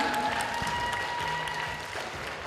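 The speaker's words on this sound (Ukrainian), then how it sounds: "Я думаю, всі оплесками хочемо сказати велике спасибі організаторам." Applause from the audience at the closing parade and award ceremony of a children's gymnastics tournament, an even crowd clapping in a large hall that thins slightly toward the end, with faint tonal hum beneath.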